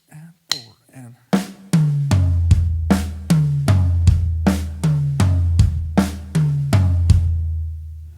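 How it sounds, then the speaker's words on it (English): A drum kit plays an eighth-note metal fill, snare, small tom, floor tom and bass drum hit in a steady repeating pattern, a dozen or so punchy strikes with deep booming kicks, played alone after a few lighter opening taps. "It's going to be right on the snare, left on the small tom, right on the floor tom, followed by the bass drum."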